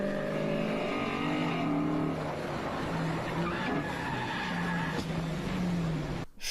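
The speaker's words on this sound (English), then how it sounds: "totaling the Corvette the day he bought it" Corvette skidding in a played-back clip: a continuous loud tire squeal and engine roar that holds for about six seconds, then cuts off abruptly with a sharp burst at the end.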